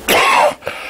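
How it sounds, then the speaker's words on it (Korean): A single harsh cough, close and loud, from a lecturer with a cold, a throaty burst followed by a brief rough catch of breath, with no speech. "감기가 좀 들어서 중간중간에 기침을 좀 할 거예요"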